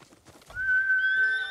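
A horse in the Ghost of Tsushima video game gives a clear, drawn-out whinny close by, preceded by a few soft hoof clops, the neigh rising and holding for about a second.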